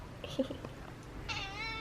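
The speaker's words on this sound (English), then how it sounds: "Gracie, meow." A cat gives a short, clear meow near the end, after a few faint soft sounds and rustles close by.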